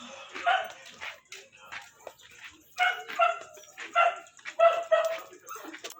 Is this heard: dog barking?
yes